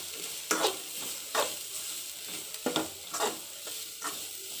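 Grated carrot cooks in a pan with a soft, low sizzle, punctuated by several sharp stirring scrapes at irregular intervals, close but fairly quiet, with no voices.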